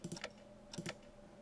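Computer keyboard keys are pressed at a desk: two quick pairs of soft, close clicks separated by a short pause, quiet and alone.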